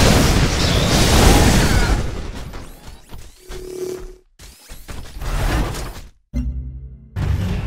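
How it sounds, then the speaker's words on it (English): Loud, distorted explosions and harsh glitchy bursts from Civilization: Beyond Earth, one after another, with crackling booms, abrupt cutoffs and mechanical whooshes. "a lot of distorted, glitched out kind of explosions and stuff"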